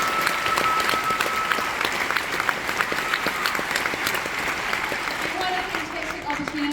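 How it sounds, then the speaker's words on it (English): Conference audience applause at a women's empowerment event, a full, continuous burst of clapping close by that stays strong throughout and eases slightly near the end. "give them a round of applause for MB."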